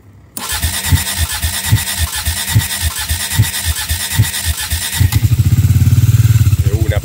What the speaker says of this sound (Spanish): Vamos a ver si arranque la moto de una.